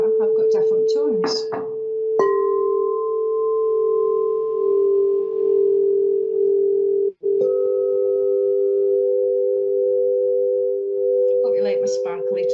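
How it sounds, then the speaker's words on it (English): Crystal singing bowls ring out with a sustained pure tone that holds steady, then a second bowl is struck and hums on; someone talks briefly at the start and again near the end. "we've got some lovely singing bowls here. These actually like to be played with this instrument rather than the other"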